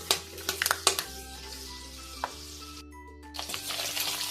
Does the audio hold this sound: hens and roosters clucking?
no